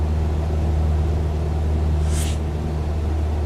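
Cessna 172 engine in Microsoft Flight Simulator 2020 gives a steady, low droning hum with a constant rumble underneath. It runs unbroken throughout, with a brief airy hiss partway through and no talking.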